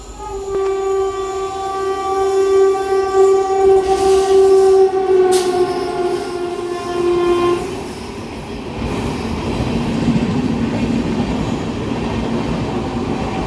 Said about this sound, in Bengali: এখন থ্রু ট্রেন যাবে। গাইস তোমরা দেখতে পারবে, দেখো আসছে থ্রু ট্রেন।